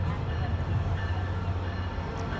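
A train sits at a station platform with a steady low rumble and hum, with murmuring voices in the background throughout.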